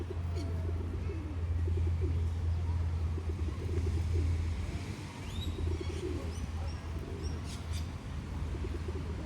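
Pigeons, including a young full-grown bird, coo softly amid constant low traffic rumble and bird chirps outdoors, the cooing faint and intermittent under the steady street hum.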